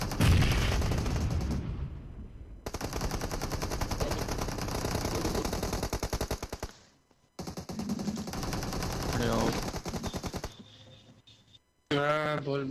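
Rapid automatic gunfire from a BGMI (Battlegrounds Mobile India) match: long, dense bursts of shots with a brief pause in the middle and a short break near the end, with a voice talking faintly under the shooting.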